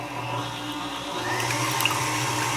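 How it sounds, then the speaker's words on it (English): A stand mixer with a whisk attachment beating six egg whites, a steady, continuous whirring drone with a watery, frothy hiss that holds at a constant level throughout. "Here I have the mixer with the whisk attachment. And let's add 6 egg whites. And let's mix it."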